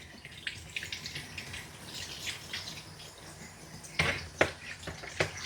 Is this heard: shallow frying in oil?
no